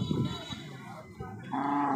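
A cow moos at a village cattle market held for Qurbani, one long, loud, deep moo rising close by after a moment of muffled market noise.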